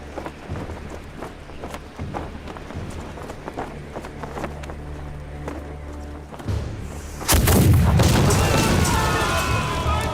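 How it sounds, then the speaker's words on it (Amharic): A single heavy cannon shot booms in late, a loud low blast with a long rumbling tail, following a stretch of clattering hoof-like thumps and knocks. "በአንድ መድፍ በጣም ተደናግጧል ኮማንደር"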